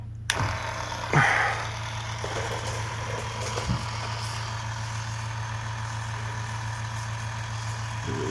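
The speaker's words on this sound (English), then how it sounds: "Alright, pump on." Steady low electric pump hum from a pump pressurizing a 4L80e transmission during line-pressure troubleshooting, running continuously with a few brief clicks and knocks on top.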